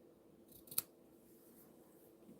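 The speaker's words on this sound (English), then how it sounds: "I'm going to trim this down a little bit" Scissors trimming craft material in a studio, a single quiet crisp snip near the middle of a short, otherwise calm stretch, with no talk.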